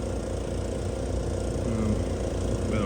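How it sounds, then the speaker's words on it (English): A noisy air compressor running in a truck restoration workshop, a steady loud motor drone with a low rumbling hum that holds constant throughout. "I'll turn that noisy compressor off."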